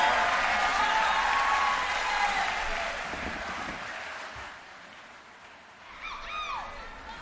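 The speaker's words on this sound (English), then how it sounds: "give him one more round of applause for the man, the myth, the legend, Mr. Eddie George." Ohio FFA convention crowd applauding in a large hall, a loud sustained roar of clapping that gradually thins and fades, then swells again near the end with a few whoops.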